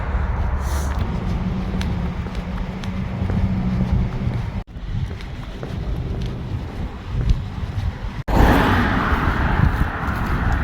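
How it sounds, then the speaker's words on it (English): Strong wind buffets the microphone during a hike, a loud continuous rumbling roar with gusty swells and brief dropouts, rising to a harsher blast near the end. "the wind's picked up quite dramatically"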